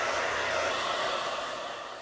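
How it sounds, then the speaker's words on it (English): Hair dryer blowing on a freshly made darkroom test print, a steady, even airflow whoosh heard close and alone for the whole stretch, tapering slightly at the end. "I hit the print with the dryer, which darkens down the colors a little bit"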